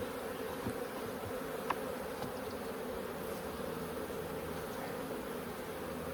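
Honey bees in a Holts Summit bee yard hum steadily and close throughout an open hive inspection, a dense continuous drone with no voices.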